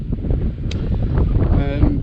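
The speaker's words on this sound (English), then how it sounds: "Sorry if it's windy as well." Wind on Saddleworth moor rumbles across the microphone in a steady low buffeting, close and continuous, with a faint voice and a brief higher tone partly masked beneath it.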